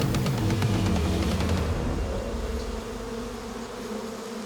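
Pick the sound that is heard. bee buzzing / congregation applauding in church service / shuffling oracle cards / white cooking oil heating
bee buzzing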